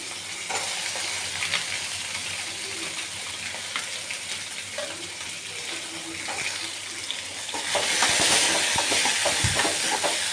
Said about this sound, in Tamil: இதில் போட்டு வதக்கிக்கலாம் கருவேப்பிலை போட்டுடலாம் நல்லா வதக்கணுங்க வெங்காயமும் தக்காளியும் நல்லா வதங்கணும்